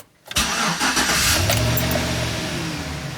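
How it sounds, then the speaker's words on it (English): A 2010 Chevy Silverado engine cranks and catches, then settles into a steady, loud idle close by. "I'm gonna start the car now"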